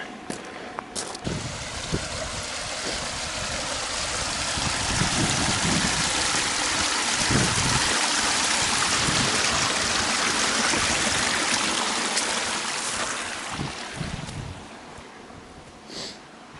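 Water draining and flowing steadily in an outdoor stream, a dense, continuous rushing wash that swells slightly in the middle and eases toward the end, heard close with no voices.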